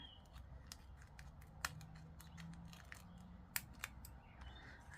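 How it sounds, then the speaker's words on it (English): Scissors snipping to trim a mini specimen slide for a butterfly display, a run of light crisp cuts with a few sharper clicks, close over a low steady background hum. "I'm going to snip it there."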